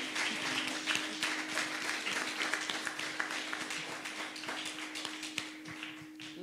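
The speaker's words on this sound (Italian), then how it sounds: "ma solo farti fare un applauso." Audience applause for an author at an Italian book presentation, a moderately quiet, steady patter of many hands with a low steady hum underneath.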